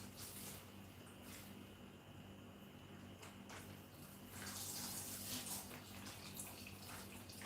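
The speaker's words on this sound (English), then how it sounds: "I'm actually going to add water so you still see if it's possible you can get some more extra juice from it or not." Water is poured into fresh pineapple and watermelon juice, making a steady, faint liquid splashing and trickling that swells slightly midway, heard alone without talking.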